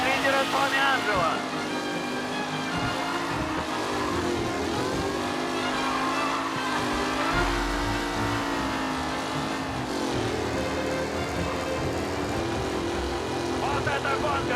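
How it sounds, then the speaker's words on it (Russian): Racing cars in the Mafia Definitive Edition video game, with engines droning and revving continuously at steady loudness while a commentator talks excitedly over them throughout. "Вот это гонка, друзья!"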